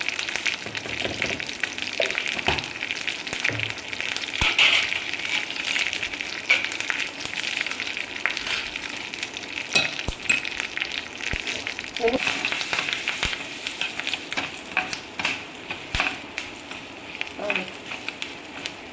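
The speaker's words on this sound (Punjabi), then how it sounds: "ਕੜੀ ਪੱਤੇ ਨੂੰ ਤੇ ਰਾਈ ਨੂੰ ਆਪਾਂ ਜ਼ਿਆਦਾ ਨਹੀਂ ਸਾੜਨਾ ਬਸ ਥੋੜਾ ਹੀ ਆਪਾਂ ਭੁੰਨਣਾ ਹੈ" Mustard seeds and curry leaves fry in hot oil in a pan for a tempering, giving a steady close sizzle and crackle with scattered sharp pops throughout, no voices.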